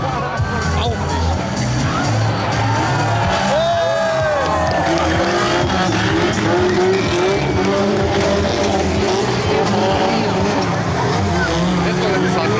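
Stock cars race around a track at a charity stock-car crash event in Ulmen, including a VW Scirocco, with continuous engine roar from several cars and the occasional tire squeal, under constant crowd noise and nearby talking.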